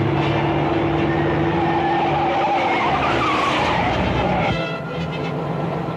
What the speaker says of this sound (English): That car in back of us seems to be sticking on our tail.